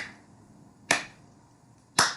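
Two slow, sharp hand claps ring out about a second apart, each crisp and close against a quiet background, with a brief decay after each strike.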